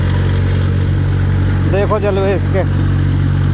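A Massey Ferguson 5245 tractor pulls an 8.8 harrow through a field, its engine holding a loud, steady drone throughout while someone speaks over it.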